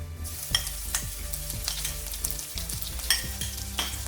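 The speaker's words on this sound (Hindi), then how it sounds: "ऑयल अच्छे से गर्म हो जाए फिर उसमें डालेंगे क्रश्ड जिंजर एंड गार्लिक।" Crushed ginger and garlic hit hot oil for Indo-Chinese veg fried rice, giving a close, steady sizzle broken by several sharp stirring clatters of a utensil against the pan.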